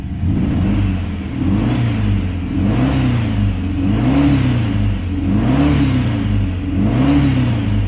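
A 1900 engine in a Volkswagen Beetle revs up and down repeatedly, a loud, close, continuous drone that swells and falls in smooth waves of throttle with no pauses or speech.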